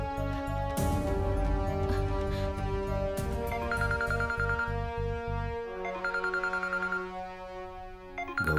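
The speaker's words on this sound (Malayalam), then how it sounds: "ഗൗരിയാണല്ലോ വിളിക്കുന്നത്." A phone rings with a melodic electronic ringtone, a repeating tune of bright tones that plays loud and clear for several seconds with no talk over it.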